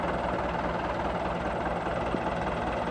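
A Massey Ferguson 175 tractor fitted with pallet forks runs steadily nearby, its diesel engine giving a continuous low rumbling drone with no break across the clip.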